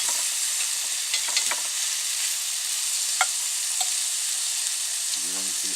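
Egg roll in a bowl ingredients being mashed down and fried in a pan in a van kitchen, a steady close sizzle with occasional scrapes and taps of the utensil against the pan.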